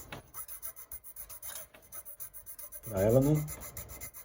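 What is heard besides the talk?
filing a guitar nut slot at an angle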